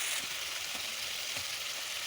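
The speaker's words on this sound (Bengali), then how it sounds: "এখন দিয়ে দিচ্ছি কেটে রাখা আলু সুন্দর করে এটা এখন একটু ভাজা ভাজা করে নেব" Steady, hissing sizzle of cut potatoes frying in hot oil in a pan, with a few soft stirring scrapes underneath.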